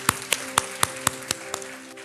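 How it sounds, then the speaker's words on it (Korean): Church congregation clapping during a Sunday worship service at a Seoul church: about eight sharp, separate claps at an uneven pace, fairly close, over a faint sustained musical tone. "우리 한번 하나님께 감사와 영광의 박수를 드리겠습니다"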